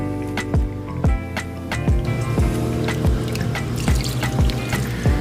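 Chicken stock is poured into a soup pot of vegetables. The liquid sounds close and steady, splashing and gurgling with repeated drips and plops and no talking.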